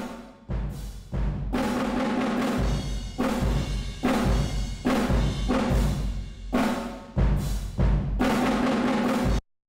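A track pushed through a hardware 1176 compressor with all ratio buttons pressed in, distorting with odd attack and release; loud, dense, pumping bursts recur in a steady rhythm, then stop abruptly.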